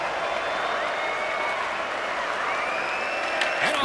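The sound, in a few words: arena crowd cheering in NHL 26 video game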